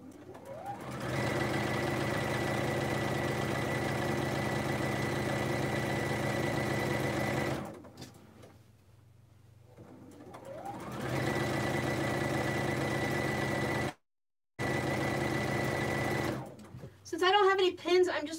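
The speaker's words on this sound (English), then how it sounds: "So now I'm just going to stitch all the way down, and I'm going to go ahead and do it super fast" A Juki sewing machine stitches a pillowcase French seam at top speed in two long, steady whirring runs separated by a short pause, loud and close, with a few faint higher sounds near the end.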